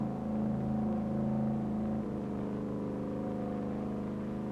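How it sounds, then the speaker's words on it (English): The 1930s-era Auburn car runs at high speed on the Bonneville salt flats, a steady droning engine note that shifts abruptly partway through, moderately loud, with no one speaking. "that demon driver and car come thundering around the course"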